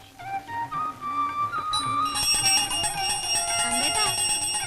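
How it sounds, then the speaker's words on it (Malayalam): A temple bell at the Mookambika shrine rings in a film scene, sustained metallic tones swelling and layering into a dense, bright ringing that continues throughout, with other voices or sounds faintly beneath. "ഒരുപാട് മണിയടിക്കണ്ട, സമയം എത്രയായിന്നറിയോ?"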